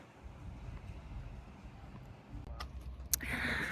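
Outdoor breeze in warm Greek sunshine, a soft, steady low rush of wind buffeting the microphone, with a few faint clicks and a brief hiss of louder gusting near the end.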